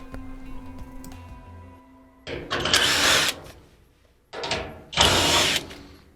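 Power drill backing screws out of the front support housing of a Maytag Centennial dryer, two loud whirring bursts separated by a pause with a ticking mechanism, close and with no voices.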